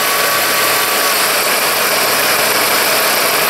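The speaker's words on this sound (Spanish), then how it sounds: "simplemente pónganle vacío a este solenoide y el carro tiene que tender a tratar de apagarse" A car engine idles loudly and close up while its EGR solenoid is grounded, a dense steady drone with slight unevenness as it struggles, with no one speaking.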